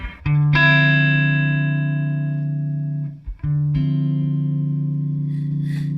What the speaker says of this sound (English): softened bass note to it, which is part of what gives it that jazz sound